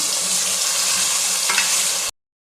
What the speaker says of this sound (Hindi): इसमें चिकन फ्राई हो जाता है